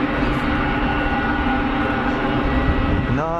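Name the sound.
Pilatus PC-12 aircraft engine taxiing out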